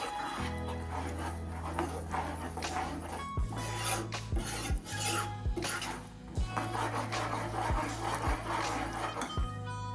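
A spoon stirs sugar syrup into a gram flour mixture for mohanthal, making repeated close rasping scrapes in an uneven rhythm over a steady tonal background.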